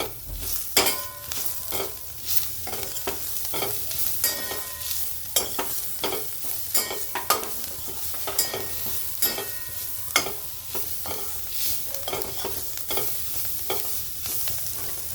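Poha and potato mixture stirred in a pan with spices, a low steady sizzle under many rapid scraping and tapping strokes of a spoon on metal, close-up and free of speech.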